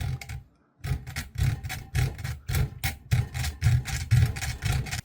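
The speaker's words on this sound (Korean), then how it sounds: "이쪽을 이런 쇠톱을 이용해서 잡아주고 잘라주시면 됩니다" A hacksaw cuts through the metal handle shaft of a fishing reel, with a steady run of rhythmic rasping back-and-forth strokes after a brief pause near the start, close and clear.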